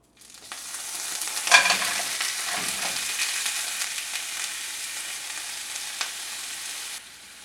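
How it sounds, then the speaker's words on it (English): Clams, mussels and large prawns sauté in olive oil with garlic and hot pepper, giving a steady, close sizzle that briefly grows louder and busier before cutting off abruptly. "Sauté in olive oil with garlic and hot pepper for about 2 minutes"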